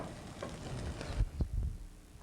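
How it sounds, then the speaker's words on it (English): Chopped ham sautéing in butter in a pan, a steady low sizzle with a few louder stir-and-scrape bumps near the end, close by and moderately loud. "You get to you saute the ham to get all the flavor out first."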